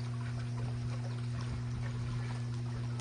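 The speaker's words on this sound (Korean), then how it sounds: "물소리 어때?" A mountain stream flows in a steady, soft rush of water, accompanied by a faint low hum, with no voices.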